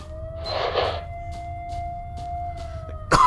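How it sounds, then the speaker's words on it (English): A siren from the STALKER Shadow of Chernobyl video game holds a steady, sustained wailing tone over a low rumble, with a brief noisy burst near the start and a sharper clatter at the end. "this siren hellhole"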